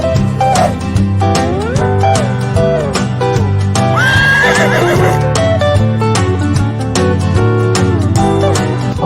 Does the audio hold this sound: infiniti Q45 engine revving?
no